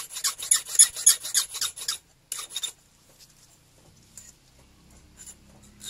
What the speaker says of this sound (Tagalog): Kaya kailangan natin siyang padaanan ng kikil.